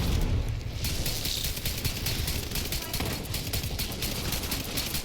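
Sustained rapid gunfire in The Division 2, dense bursts of shots and booming impacts, loud and continuous throughout.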